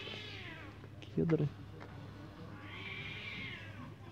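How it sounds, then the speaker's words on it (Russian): A cat yowls once, a short wavering howl near the middle, moderately loud against faint background hiss in a cedar forest, with a person speaking briefly nearby. "Кот какой-то воет."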